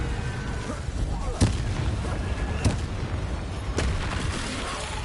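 An Incendio fire spell cast in Hogwarts Legacy, heard as three booming, fiery bursts spaced about a second apart over a steady background din.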